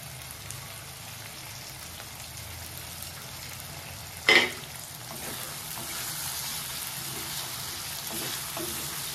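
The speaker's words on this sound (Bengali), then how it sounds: "এবার আমি দিয়ে দেব কুচি করে রাখা কাঁচা লঙ্কা।" Chopped green chillies frying in a pan, with a continuous soft sizzle like light rain, one loud clatter midway, and a slightly fuller hiss afterward.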